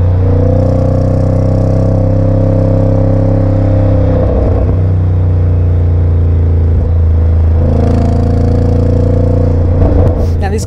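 A Jaguar F-Pace SVR V8 growls at a steady loud rumble, its low bellowing tone with harmonic layers easing and dipping twice in brief dropouts before recovering, close and clear.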